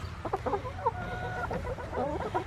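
A grumpy broody hen in a coop squawks and clucks in a quick run of agitated, nasal calls, close and moderately loud over a low background rumble.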